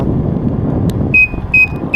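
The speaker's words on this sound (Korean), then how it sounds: "자 28km 30km만 돼도 지금 삑삑거리고 있습니다" A car's low-fuel warning chime beeps twice, each tone a clean high ping that fades over the steady rumble of the cabin and road while driving.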